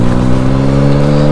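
A 2021 Yamaha MT-09 three-cylinder motorcycle engine holds a loud, steady, close-up growl with a strong harmonic hum while riding through city streets.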